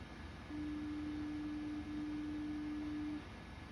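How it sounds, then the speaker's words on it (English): A 3D printer runs nearby, a steady, even mechanical whine humming for a few seconds over low background noise, then cutting off. "Sorry if you hear the printer in the background."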